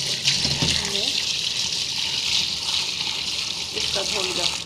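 Steady gushing tap water running over soup stock ingredients being washed in a sink, a continuous close splashing flow with a few faint clinks and a voice speaking underneath.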